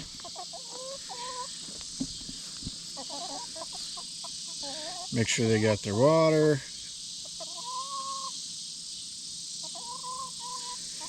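Chickens cluck softly in short repeated bursts, with a brief louder squawking outburst in the middle; a person speaks briefly near the start.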